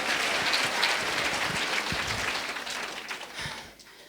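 Church congregation applauding during a sermon, a dense burst of many hands that tapers off near the end with a few last claps.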